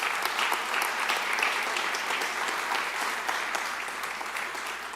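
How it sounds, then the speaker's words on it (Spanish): A congregation applauds during a sermon, dense steady clapping from many hands at an even level from start to finish, with no talk over it. "Yo les agradezco mucho que aplaudan"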